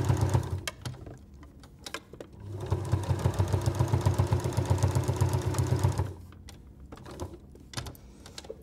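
A sewing machine stitches through several layers of fabric for small oven mitts, running in a steady fast rhythmic whir for about three seconds between short starts and stops, close up with no voices.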